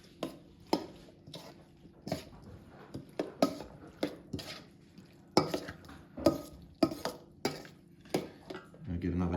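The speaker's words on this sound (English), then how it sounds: "We'll give that a stir around." Cut octopus pieces being stirred into a marinade mix, a string of sharp clinks and scrapes of a utensil against a bowl or jar at an irregular rhythm, close and distinct over a quiet background.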